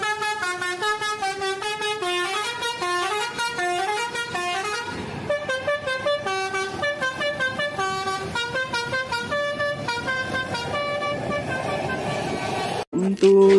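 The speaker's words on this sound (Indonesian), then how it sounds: "Selanjutnya, wah, ini bus Agramas teman-teman." An Agramas bus sounding its musical horn, playing a loud repeated multi-tone melody that runs close and continuous for over ten seconds, then cuts off abruptly with a clunk at the end.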